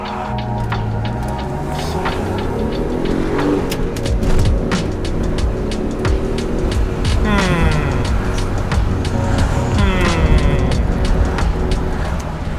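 A Ford Probe GT engine pulls under acceleration from inside the cabin, its note rising through the gears in sweeping climbs, while a person talks over it throughout.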